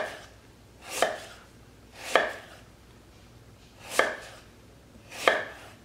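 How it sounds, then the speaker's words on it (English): A knife chops vegetables for kimchi on a cutting board in four separate, deliberate cuts, each a crisp thunk with about a second's gap between them. The sound is close and there is no talk. "So I can move my fingers back just as far as I want, adjust, make my cut, hold that, and slide my knife out."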